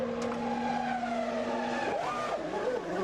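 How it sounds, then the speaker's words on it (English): A McLaren Formula 1 car during a pit stop, with engine whine shifting in pitch and a brief rising rev and squeal, heard amid steady circuit noise at Monza. "Häkkinen's pit stop at McLaren"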